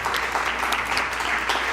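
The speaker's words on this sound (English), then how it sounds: "So that warrants applause." Steady applause from a congregation at a New Thought community gathering celebrating its second anniversary, dense clapping held at an even level throughout with no gaps.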